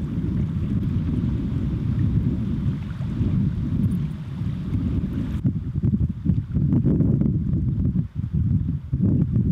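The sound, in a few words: north wind blowing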